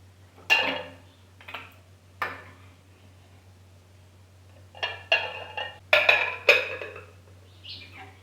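Mutton kosha spooned from a pot onto a plate, a few sparse scrapes and clinks of a serving spoon against metal and crockery, fairly quiet and close, with a faint steady hum underneath.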